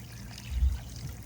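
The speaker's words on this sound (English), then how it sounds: "We'll add the water." Water poured from a container into a dish of crystals soaking in Iron Out, a short soft glug and splash swelling briefly in the middle, with no talking.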